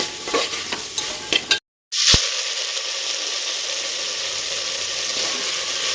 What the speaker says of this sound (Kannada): ಚೆನ್ನಾಗಿ ಎಣ್ಣೆಯಲ್ಲಿ ಫ್ರೈ ಆಗಿದೆ ಫ್ರೆಂಡ್ಸ್